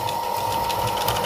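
Tailoring sewing machine stitching a double fold seam, running in one steady, close, loud mechanical whir with a fast even stitching rhythm and a faint high whine, with no talk.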